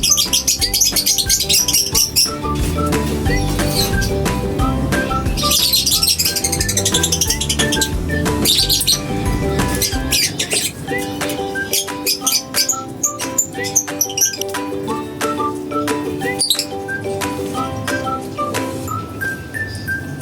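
Lovebirds keep up dense chirping and squawking throughout, many overlapping calls that sound busy and fairly loud, with no talking.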